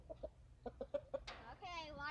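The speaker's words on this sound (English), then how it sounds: "Are you ready to be nice? Meanest rooster." An aggressive rooster gives a few short clucks, then breaks into a brief crow with a rising, harmonic call at close range, faint overall.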